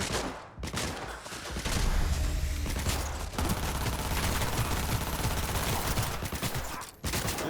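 Loud gunfire in Cyberpunk 2077 rattles in rapid bursts close by, a dense fusillade that runs almost continuously with only brief breaks, with no talking over it.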